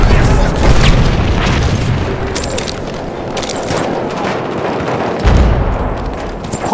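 A grenade blast in a Battlefield 1 Operations battle on Devil's Anvil amid a loud, dense mix of gunfire and booms, with a heavy close burst near the end.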